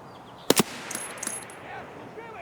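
A gunshot in Escape from Tarkov, two sharp, close cracks in quick succession followed by faint echoes and quiet outdoor game ambience.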